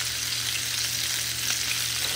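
Fish fries in a small amount of oil, making a dense, steady close-up sizzle with no break, over a low constant hum.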